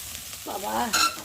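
Soybean chunks frying in a pan, a brief close sizzle with a quick stir and scrape in the middle, heard without speech.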